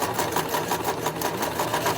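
Sewing machine stitching the seam of a reversible tote bag, a rapid steady mechanical chatter with even pulses, close and continuous throughout.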